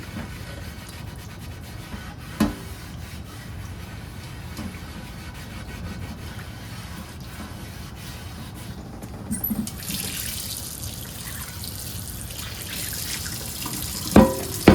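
A cast iron skillet being scrubbed with a sponge under a running kitchen tap, steady water flow with occasional clunks and rubbing, louder splashing toward the end.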